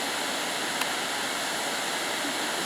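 A waterfall gushing down stone steps, a loud, continuous broadband rush of water close by with no pauses.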